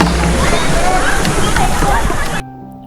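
Water sloshes and splashes continuously as someone bathes in a river at Tipukhola near Bagdogra, with voices mixed in, before the sound cuts off abruptly.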